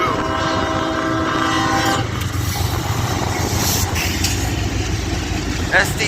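A Union Pacific SD70M diesel locomotive leads a manifest freight train past on a windy day, its horn sounding briefly at the start over a steady roar of engine, wheels and rumbling cars, with wind noise throughout.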